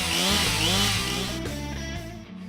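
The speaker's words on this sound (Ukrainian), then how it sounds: "Сьогодні у нашому огляді професійна бензопила штіль МС 361" STIHL MS 361 professional petrol chainsaw running close by, a loud buzzing engine whose pitch shifts in steps as the throttle rises and falls, with no talk over it.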